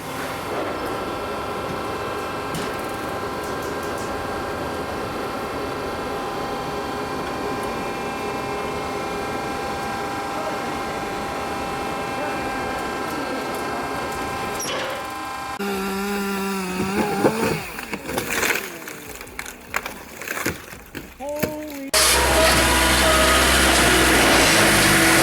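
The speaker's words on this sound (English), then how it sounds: "The Bell 8000 provides unparalleled power and exactness thanks to its 125 horsepower engine." A Bell 8000 firewood processor with a 125 horsepower engine runs steadily and loudly, then gives way to a stretch of irregular mechanical clanks and grinding bursts before a dense, heavy roar returns near the end.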